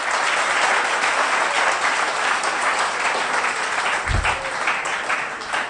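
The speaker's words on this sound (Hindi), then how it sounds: "ताली बजाओ एक बार महावीर के लिए।" A crowd of students claps in loud, continuous applause for Mahaveer, holding steady from start to finish with a single low thump partway through and no voices.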